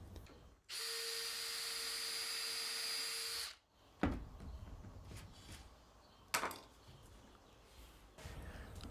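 A steady, high-pitched power drill whine runs for about three seconds, boring concealed Euro hinge holes in a cabinet door with a jig, then stops, followed by a few sharp knocks and light workshop clatter.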